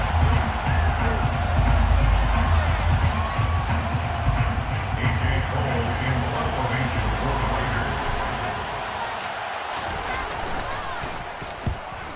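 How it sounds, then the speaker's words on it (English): A football stadium crowd in a Madden video game roars and shouts in a loud, dense, continuous wash that slowly fades over several seconds, with faint thumps and a commentator-like murmur beneath. "Plenty of shouts from this crowd as they watch the replay"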